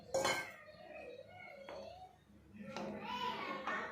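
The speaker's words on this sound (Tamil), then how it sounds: "குழம்பு கொதிக்கிற இந்த கேப்பில் நம்ம பாத்திரத்தை தேய்ச்சி எடுத்துடலாம்" Cooking pots and metal vessels being scrubbed and clanked in a village kitchen while a chilli curry simmers, with short scraping bursts and a few metallic knocks over a quiet room, and a voice faintly audible.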